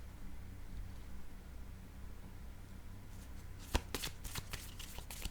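Tarot cards being shuffled in a quick burst of crisp riffling and flicks, starting after a few seconds of quiet room tone, fairly close and moderately loud with no talking.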